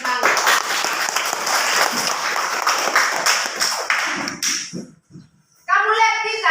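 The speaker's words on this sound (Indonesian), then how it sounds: "Mari kita tepuk tangan buat dia semangat." A classroom of children claps for a child who has just led a song, with brisk, dense applause that fades out, followed by a pause and then a voice speaking.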